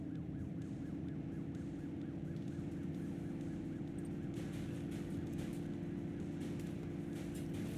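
Goose honking in the video game The Precinct, a run of repeated nasal honks over a steady droning game background with faint engine hum, moderately loud and continuous.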